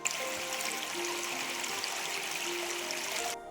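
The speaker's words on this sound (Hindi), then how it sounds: "और ये पानी आप लोग देख सकते हैं जो कि बिल्कुल पहाड़ों के ऊपर से आ रहा है।" A hill stream flows down from the mountains near the village of Majhigava in Rewa, Madhya Pradesh, swollen after recent rain. Its steady rushing and trickling holds an even level throughout, with no voices.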